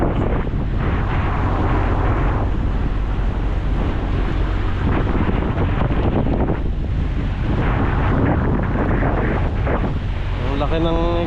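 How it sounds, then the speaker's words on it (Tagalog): A service boat under tow at sea, with loud, steady wind buffeting the microphone over engine rumble and wash of waves throughout; a voice is heard briefly. "Ito yung sinihila na lang natin itong service boat natin, oh."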